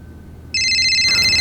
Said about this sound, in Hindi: मेरा फोन बजा ना, मतलब मेरा वाला।